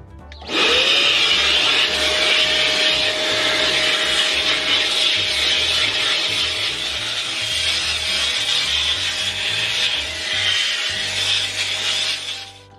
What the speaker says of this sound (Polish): To jest nasze pierwsze odkurzanie od wyjazdu.